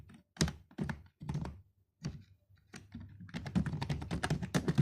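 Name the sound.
typing on a computer keyboard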